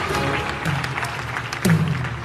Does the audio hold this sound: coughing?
no